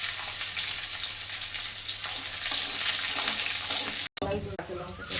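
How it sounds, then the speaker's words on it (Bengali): Garlic tempering sizzles hard in hot oil for a raw pumpkin fry, a dense close hiss that holds steady for about four seconds, then cuts out abruptly before quieter kitchen sounds follow. "এবার রসুনটা দিয়ে দিলাম, রসুন ফোড়ন দিয়ে"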